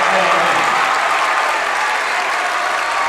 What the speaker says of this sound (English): Carmel fans as well applauding that.